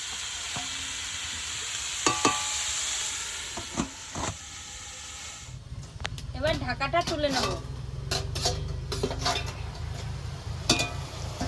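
Fish with bottle gourd stirred in a frying pan, a steady sizzle of frying under repeated scraping and clinking of a utensil against the pan, close and fairly loud, with a voice talking over it.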